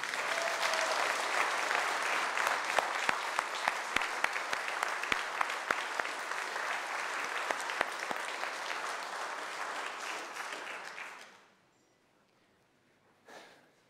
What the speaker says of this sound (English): I think you should have another round of applause.